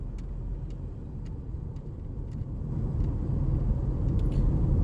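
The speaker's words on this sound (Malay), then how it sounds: "Tengok dia pulas minyak tu. Pulas minyak habis." A motorcycle ridden by an ice cream seller on bald tyres runs at full throttle, a dense low engine and road rumble that swells louder toward the end with faint ticking above it.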